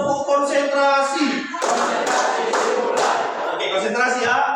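A school class doing a rhythmic concentration clap: a group of pupils clapping sharply together in a patterned beat within a classroom, with voices chanting along loudly over the claps.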